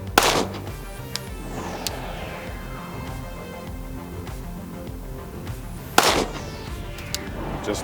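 Glock 47 handgun shots at a 200-yard target ring out outdoors, two sharp loud reports several seconds apart, each followed by a lingering echo, with faint background noise between them.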